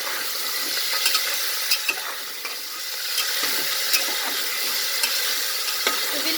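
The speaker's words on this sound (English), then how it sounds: "So we'll fry for 2 minutes on medium flame." Vegetables, including green peas, fry and are stirred in a pan over a medium flame, giving a steady close sizzle with small scraping ticks from the stirring throughout.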